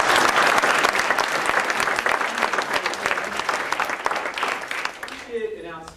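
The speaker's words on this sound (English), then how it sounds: "give him a round of applause" Audience applause at a political event in Ohio, a dense, loud burst of clapping from a crowd that fades over several seconds, ending as a speaker resumes talking.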